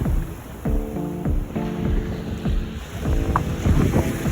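Waves of the Bay of Bengal roll and wash on a beach in repeated surges, with gusty wind noise buffeting the microphone throughout.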